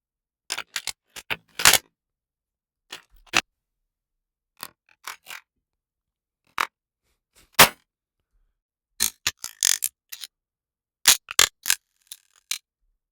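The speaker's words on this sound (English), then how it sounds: "how I created some of the weird movement in the gun reload section to sort of fit that like alien sci-fi material" Sci-fi weapon reload movement for the Destiny 2 Prometheus Lens: sharp mechanical clicks and snaps in irregular clusters, dry and close against silence.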